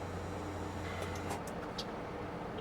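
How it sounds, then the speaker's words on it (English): A semi truck's diesel engine turns over and idles at a truck stop, a steady low rumble with a brief rise in revving partway through, close by and alone with no talk. "So we start the truck up."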